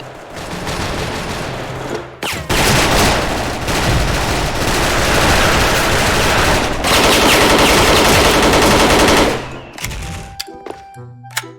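Sustained bursts of automatic fire from an AUG A3 rifle in the SF shooter game, loud and dense with brief pauses between long strings, ending in scattered clicks and interface sounds.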